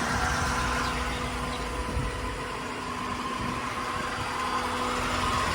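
A 1992 C4 Corvette LT1 V8 convertible with a six-speed idles steadily after starting, a constant mid-pitched engine drone with faint vibration and a steady hum, heard close and with no talk.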